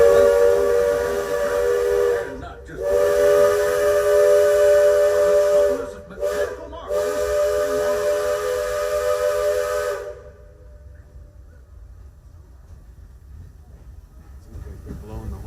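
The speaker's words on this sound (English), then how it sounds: "They're blowing the horn a little bit more than normal." A steam locomotive on the Magic Kingdom railroad sounds its whistle in long, loud, steady blasts with brief gaps, then stops and leaves a quiet hiss for the final seconds.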